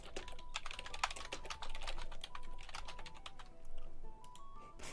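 Quiet, close typing on a computer keyboard: quick, irregular key clicks continuing steadily without talk.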